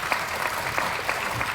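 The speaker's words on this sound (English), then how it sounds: "give him a big round of applause" Sustained audience applause filling a conference hall at an energy security summit session, steady dense clapping throughout without pause.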